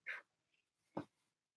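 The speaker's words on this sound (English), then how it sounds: "The neighbor's dogs are barking." Two short dog barks from next door come one after the other with a pause between them, fairly faint and distant in an otherwise quiet setting.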